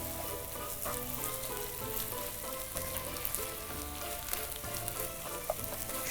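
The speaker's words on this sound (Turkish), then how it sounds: "Bulguru ilave ediyoruz. Güzelce bulguru kavuruyoruz." Bulgur toasting in a hot pan gives a dense, steady sizzle and crackle, close and even throughout, with faint stirring scrapes and no talk.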